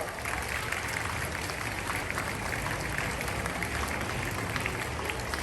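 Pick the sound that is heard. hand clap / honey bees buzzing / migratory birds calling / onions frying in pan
hand clap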